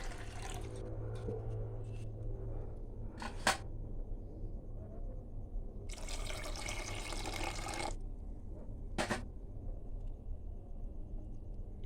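Water poured into a pot for kheer on a wood-fired stove, a steady broadband rush lasting about two seconds, with a few short splashes before and after over a low background hum.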